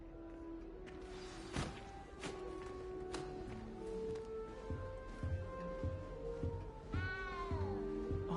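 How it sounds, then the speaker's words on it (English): A frightened little cat in a video game meows repeatedly, distinct plaintive calls rising and falling over a quiet game soundscape with a low steady hum, no talking. "You don't need to be frightened, little cat."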